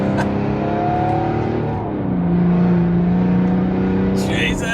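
A turbo diesel Mercedes with doubled power accelerating hard in manual mode, engine note rising through the gears with strong tonal whine and a brief drop at a shift, loud and close from inside the car.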